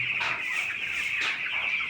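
Several 13-day-old farm chickens cluck and murmur continuously at close range, a busy overlapping chatter with no talking.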